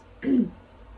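A single short, soft throat clearing, brief and close, in an otherwise quiet room.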